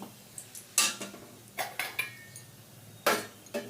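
A spatula knocks and scrapes against a wok in a few sharp, separate strikes while lentil dumplings (bori) fry in oil until reddish, the sizzle faint and low underneath.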